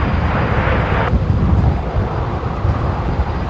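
A jet aircraft landing on runway 19 left at Brisbane Airport gives a loud, broad engine roar with buffeting wind noise on the microphone, the rumble continuing steadily after an abrupt change early on.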